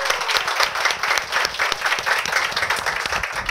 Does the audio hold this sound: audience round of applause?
yes